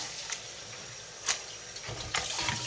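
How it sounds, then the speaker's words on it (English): Tap water runs into a container for rinsing chitterlings, a soft steady stream of splashing with a few brief louder bursts and clatters nearby, no talking. "So we're going to run us some water in here, and we're going to rinse it."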